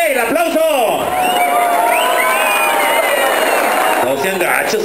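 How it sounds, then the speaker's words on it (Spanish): Crowd at a jaripeo in Yuriria cheering, whooping and shouting loudly and continuously, with a few excited voices rising above the roar. "¡El aplauso!"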